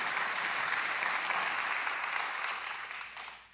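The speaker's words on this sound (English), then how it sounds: "you can clap. We clap here at Grace." Audience applause in a church during a live Q&A, a dense, even wash of clapping at moderate volume that tapers off toward the end.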